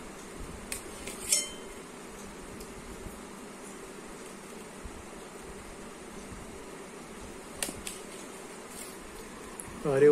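A knife cuts through a ripe, tree-picked guava, giving a few soft clinks and scrapes that stand out now and then against a quiet, steady background hum. No one speaks.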